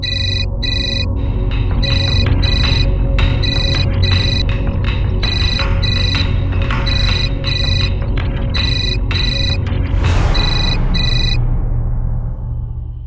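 A telephone ringing in a home, its electronic ringtone repeating in regular bursts over a low steady hum, loud and close, until it stops near the end.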